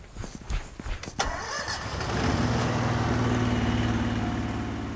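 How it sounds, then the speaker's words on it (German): Air compressor starting up to blow fiber optic cable into a conduit pipe for a house connection, with a few clunks and footsteps before a loud steady mechanical drone settles in. "Und dafür brauchen wir den Kompressor und das wird ganz schön laut."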